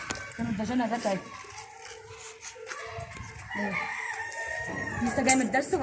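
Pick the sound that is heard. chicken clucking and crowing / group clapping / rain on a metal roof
chicken clucking and crowing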